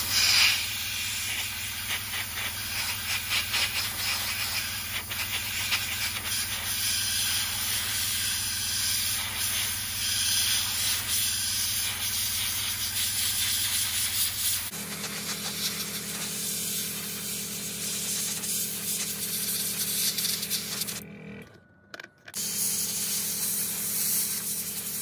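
Black paint sprayed as an overspray onto model railway wagons and a brake van for weathering, heard as a continuous close airbrush hiss that changes tone partway through and breaks off briefly near the end.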